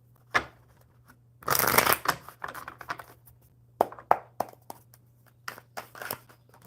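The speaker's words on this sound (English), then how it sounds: "Get these shuffled up really good." Playing cards being shuffled by hand in several quick riffling bursts with short pauses between, interspersed with soft taps and card-edge clicks, close and fairly quiet over a faint low hum.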